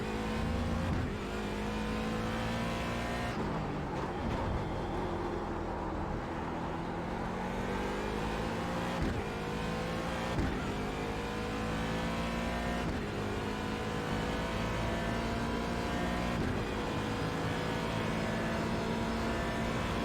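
GTE race car engines drone and rev continuously in iRacing at Daytona, with gear shifts and cars sweeping past at close range, loud and unbroken with no voices.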